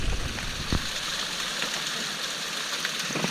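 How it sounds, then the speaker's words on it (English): Small waterfall on a creek in the outdoors, a steady broadband rush of falling water that holds constant throughout, fairly close and unbroken, with no talking. "So a little bit of a waterfall"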